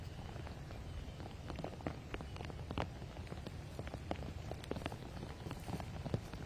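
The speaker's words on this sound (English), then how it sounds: "did this little rain shower kind of come out of nowhere?" A light rain shower falls on an outdoor disc golf course in Texas during a women's pro tournament round, a soft steady patter with scattered drops tapping nearby and no voices.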